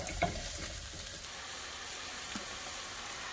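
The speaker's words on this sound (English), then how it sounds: "So let me finish sauteing these." Mushrooms and ground beef sautéing in a pan, a steady close sizzle with stirring scrapes, loudest at the start and then settling to an even frying hiss.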